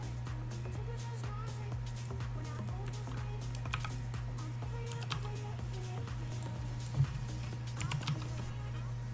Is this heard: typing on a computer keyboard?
yes